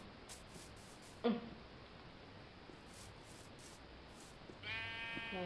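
A Minecraft sheep bleats twice, a short call early and a longer wavering one near the end, over a quiet hissing background.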